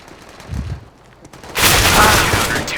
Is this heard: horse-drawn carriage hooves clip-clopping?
no